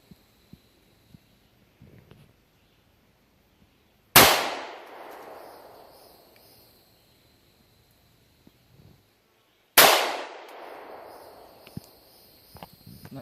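Two loud, sharp shots from a Springfield XDE hammer-fired 9mm pistol, about five seconds apart, each with a long decaying echo across an outdoor range, plus faint small clicks between them.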